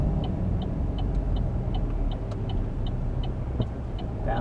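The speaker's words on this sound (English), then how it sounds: "We have a car coming out, this pulling out in front of us anyway." Steady road and engine rumble from inside a moving car on a Tallaght driving route while another car pulls out ahead, a continuous low drone with faint periodic ticking, no talk.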